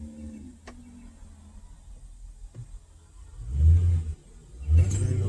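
A car drives past on a residential street, a low engine rumble swelling from faint to loud, with a second vehicle following close behind near the end.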